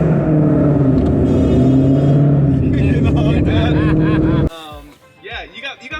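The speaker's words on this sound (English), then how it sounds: "We're gonna snip in that little tunnel exhaust clip that we had earlier" A 900 rwhp S550 Ford Mustang roars loudly through a tunnel with a deep, resonant exhaust drone that builds, then cuts off abruptly, leaving echoes and voices talking.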